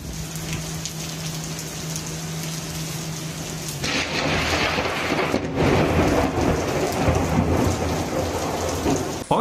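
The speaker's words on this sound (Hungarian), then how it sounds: "Ez a villámlás egy pillanatra lecsapta az áramot az egész városban." A thunderstorm with lightning, a strike that briefly knocked out power across a whole city, brings heavy steady rain and rolling thunder. Halfway through, the downpour grows louder and denser.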